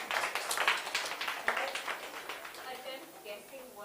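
Audience applause for students after they recite a poem at a school event, a dense run of clapping with some voices mixed in that slowly fades.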